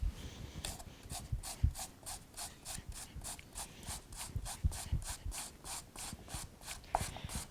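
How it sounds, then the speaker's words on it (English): Food being grated on the small-holed side of a kitchen grater, a steady run of about twenty quick rasping strokes in an even rhythm, close and fairly quiet, with no voices. "you'll notice on the grater there's a large and then a small. You want to go with the small on this."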